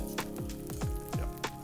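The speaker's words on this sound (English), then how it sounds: "You can hear it sizzling." Seasoned salmon fillet sizzling in a pan over medium heat, a steady close frying hiss with a few brief pops and crackles, no talk over it.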